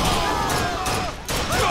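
Rapid gunfire bursts from the video game Bioshock Infinite, a dense crackle of shots in quick succession with a brief gap before another burst.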